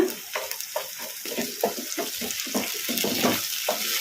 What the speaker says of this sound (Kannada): ಈಗ ಇವನ್ನ ಉಳ್ಳಾಗಡ್ಡಿಗೆ ಹಾಕಿ ಫ್ರೈ ಮಾಡ್ಕೊಂಬಿಡೋಣ